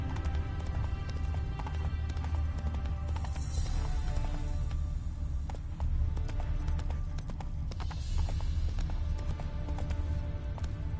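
Roach, a horse in The Witcher 3, trotting with steady rhythmic hoof clip-clops that carry on throughout under a low ambient game bed.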